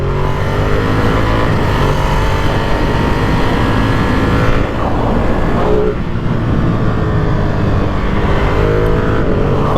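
A 2023 Ducati Streetfighter V2 motorcycle cruises along a highway, its engine droning steadily and loudly up close amid rushing wind, with the pitch shifting slightly as the rider changes speed.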